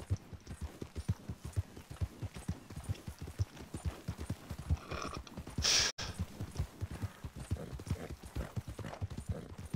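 A horse's hooves clip-clop steadily in the Red Dead Redemption video game, a rapid, even rhythm of close hoofbeats, briefly broken midway by a sharp burst of another sound.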